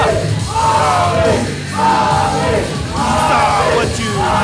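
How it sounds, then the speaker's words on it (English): A loud wrestling arena crowd yells and roars continuously at an independent wrestling event, with swelling waves of shouting and whooping close around. "Listen to the crowd."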